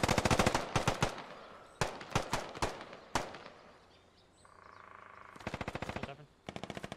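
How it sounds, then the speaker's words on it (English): AK rifle gunfire in a video game battle, rapid automatic bursts cracking loudly in several clusters with brief pauses between, some volleys sharp and close, others more distant, no talking. "more AK fire going down both sides"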